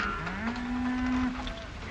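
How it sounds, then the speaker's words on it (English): A single cow moos in a long, drawn-out low call rising slightly and holding, close and clear over a steady outdoor background, as cattle are driven toward water on an old Colorado range. "Drive the cattle through to the water."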